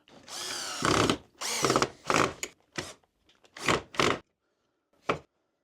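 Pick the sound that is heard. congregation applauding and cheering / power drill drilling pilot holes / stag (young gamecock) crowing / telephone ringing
power drill drilling pilot holes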